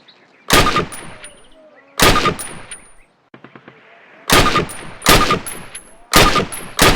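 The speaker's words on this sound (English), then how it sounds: "Approach the fence and fire 6 rounds at your target" Single rifle shots fired at a target on a Call of Duty training range ring out loud and close, six sharp cracks spaced about a second apart, each followed by a brief metallic ping and short echo.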